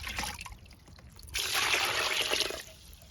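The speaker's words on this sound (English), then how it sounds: "you can top it off with water" Water trickles and splashes as a spray bottle of weed-based garden fertilizer is topped off, a brief steady pour that swells in the middle and then stops.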